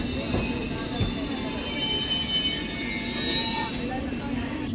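A London train at Whitechapel station hums and rumbles steadily nearby, with faint high wheel squeal and a low murmur of voices in the background.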